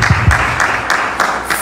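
Congregation applauding during a church service, a steady wash of clapping filling the room with a few sharper claps near the start, continuous throughout.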